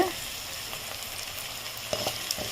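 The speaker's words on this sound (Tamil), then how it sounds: "வெங்காயம் வதங்குறதுக்கு சிறிதளவு உப்பு சேர்த்துக்கணும் நான் கல் உப்பு தான் எப்போதுமே சேர்க்குறது வெங்காயம் நல்லா வதங்கிட்டுருக்கு" Onions sautéing in a pan with rock salt, a continuous moderate sizzle with occasional scraping stirs and small clicks near the end, no talking.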